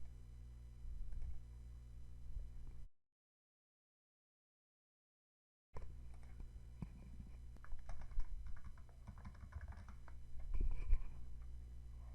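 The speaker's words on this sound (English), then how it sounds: "After typing in our title" A title being typed on a computer keyboard, soft irregular key clicks in a quiet room, with a silent gap in the middle before a louder burst of typing.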